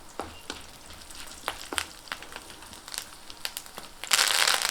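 Chana dal, dried red chilies, garlic cloves and curry leaves frying in hot oil for a tomato chutney, a steady close sizzle broken by sharp crackles and spatters, rising into a loud burst of hissing near the end.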